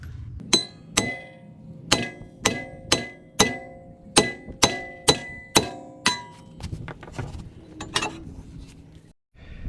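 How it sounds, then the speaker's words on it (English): A 4-pound sledgehammer pounds the rear brake rotor of a 2007 Lexus GS 350, about a dozen sharp metallic clanging blows in steady rhythm, close and loud, then a few lighter knocks. "So I'm going to be using a 4-pound sledgehammer. I'm going to be pounding the rotor."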